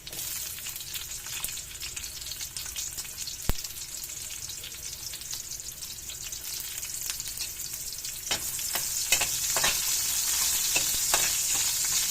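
Onions frying in a pan for pancit, a soft steady sizzle with scattered scraping and clicking stirring strokes, growing slightly louder and busier toward the end.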